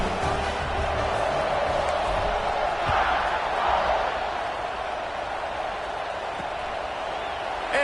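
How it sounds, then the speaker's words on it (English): Stadium crowd in a College Football 26 game at Alabama, a steady loud buzzing roar of many voices with no breaks, sustained after a touchdown. "this crowd is buzzing after that last score."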